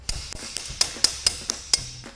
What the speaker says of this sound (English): with a few taps of the hammer, we can remove the shifter collar